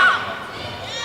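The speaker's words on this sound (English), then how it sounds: "I've never heard a crowd as vocal as they have been tonight" A loud wrestling crowd at a Continental Championship Wrestling event in Palatka, Florida roars and shouts, strongest at the start and then holding as a steady din.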